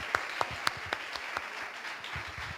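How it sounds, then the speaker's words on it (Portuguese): A church congregation applauds during a Portuguese-language sermon, the claps sparse and uneven, with a few sharp distinct claps near the start settling into a softer, scattered patter. "Aplauda ao Senhor, porque só Ele é Deus"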